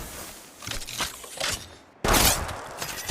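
Gunfire in the mobile shooter Apex Legends Mobile, with bursts of shots and a sharp, loud volley near the end, heard without talk.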